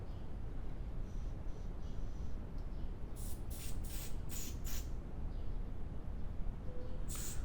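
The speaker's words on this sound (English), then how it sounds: "I don't want to use anything that can cause corrosion, so I'm using electronic cleaner for this." Electronic contact cleaner sprayed onto MG3 parts in several short hissing bursts close by, with a last burst near the end, over steady background noise.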